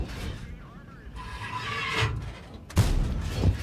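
Tank cannon shots in the World of Tanks video game, two heavy booming blasts landing a moment apart near the end, over steady engine and battle rumble with a talking voice earlier.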